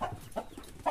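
Chicken on a rural farm giving a couple of short, faint clucks in a brief burst while being chased.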